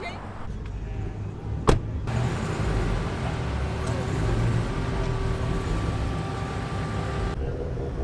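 An RX-7 rolls by in a busy car-event parking area, its broad engine roar swelling close by after a sharp click, with traffic noise and faint voices around it.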